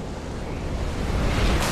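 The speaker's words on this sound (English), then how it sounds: "a storm's coming. I know. The waves are getting steep." Ocean waves and gusting wind before a storm in Kingdom Hearts form a loud, dense rush of surf and roaring air that swells toward the end, heard without voices.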